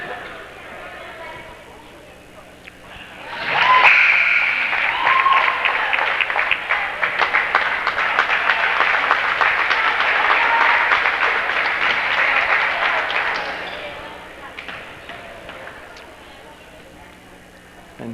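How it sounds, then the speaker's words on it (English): Crowd applauding in a gym at a girls varsity high school basketball game, a sustained roar of clapping that swells suddenly, holds for about ten seconds and tapers off, with a voice talking nearby. "As Sawin now coming out to a round of applause."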